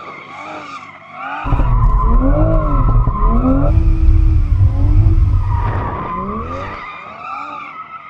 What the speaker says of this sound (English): But first, maybe we should warm up the tyres.